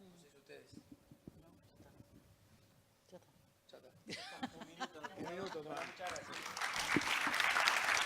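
An audience applauds doctors Monti, Perrino, San Martino and González Moras at a provincial event, clapping starting faintly after some talk and swelling into loud, sustained applause by the end.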